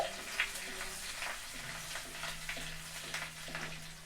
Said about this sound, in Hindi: पेस्ट को भी हम थोड़ा सा भून लेंगे